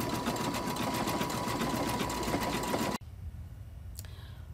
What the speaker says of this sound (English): So now I'm stitching out the red part,